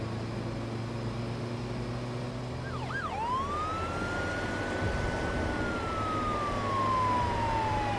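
Police siren in a video game winds up after a couple of short yelps into a long rising-and-falling wail, fairly loud and close, over low engine rumble.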